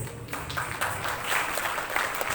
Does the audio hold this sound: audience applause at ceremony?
yes